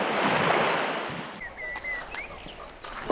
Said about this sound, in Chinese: 来到大海边喽！